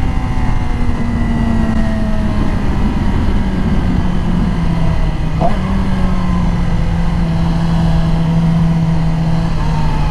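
Yamaha R6 inline-four 600cc motorcycle engine running close by, a steady, loud droning hum that holds one pitch for the whole ten seconds, with no talking over it.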